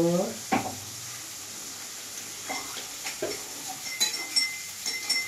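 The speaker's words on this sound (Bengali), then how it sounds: "এইভাবে কিন্তু আমি কিছুক্ষণ ভাজবো।" Chicken frying in a pan with a steady sizzle, broken by scattered clinks and scrapes of stirring, fairly quiet and close.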